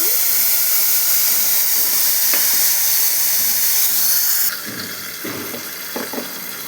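Tamarind pulp hitting a hot pan of tempered curry leaves for South Indian puliyogare, a loud bright hiss that carries on and then drops to a softer sizzle, with a few faint clatters.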